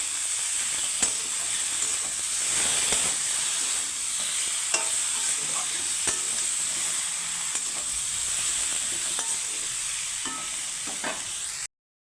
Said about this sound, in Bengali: হলুদ নুনের সাথে একটু আমি ভেজে নিব সবজিটাকে